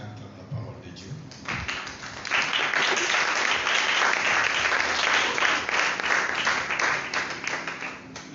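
A church congregation breaks into applause that swells to a loud, sustained clapping and then tapers slightly, with a voice heard before it begins.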